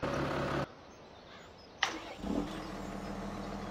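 A tractor engine in Farming Simulator 17 cranks and catches with a sharp start, then settles into a steady, mid-pitched running hum that swells briefly before holding level.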